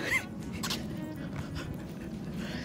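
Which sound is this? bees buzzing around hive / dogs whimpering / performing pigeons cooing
dogs whimpering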